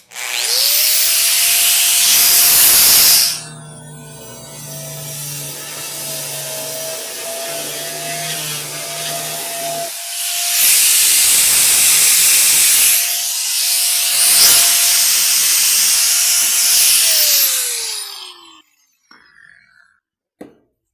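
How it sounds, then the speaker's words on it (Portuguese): Conical step drill bit boring and sanding a hole in a potable water tank, a loud steady power-tool whine and grinding in several long bursts with short pauses between, no talking. "Estou usando muito essa ferramenta aqui, ó, essa broca cônica."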